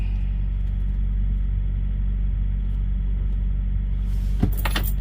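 A semi truck engine runs during a forced regen, holding a steady, heavy low drone throughout, with a few brief clicks and rattles near the end.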